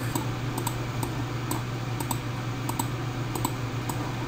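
Computer mouse clicks while measuring linear distances in Google Earth: a dozen or so sharp, light clicks in an irregular rhythm, some in quick pairs, over a steady low electrical hum.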